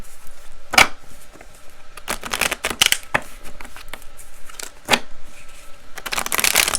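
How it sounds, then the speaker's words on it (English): Tarot cards being shuffled nearby, bursts of crisp riffling and flicking repeating irregularly over several seconds with no talking. "I'm just going to shuffle a few more times."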